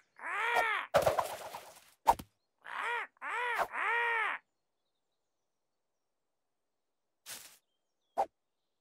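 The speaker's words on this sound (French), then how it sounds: "Oiseau." Crow cawing in a series of harsh, repeated calls, loud and close, clustered early with a couple of short isolated calls later after a pause.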